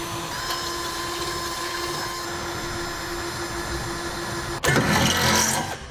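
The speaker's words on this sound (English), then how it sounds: "we use the holes that are in our base plate support as a guide to drill through our subframe extension" A power drill bores through the steel subframe extension of a 2017 Ford Edge, guided by base plate support holes. A steady whine runs throughout, then grows harsher and louder near the end as the bit bites.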